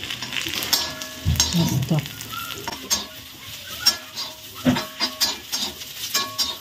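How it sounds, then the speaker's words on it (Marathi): Garlic, peanuts, sesame seeds and ginger fry in a pan as they are stirred, giving loud sizzling bursts and repeated scraping and clattering strokes; one person briefly speaks a single word. "यातच आपण हे लसूण, शेंगदाणे, तीळ आणि आलं घालायचं आहे. हे बघा, आणि एकदा परतवून घ्यायचं आहे"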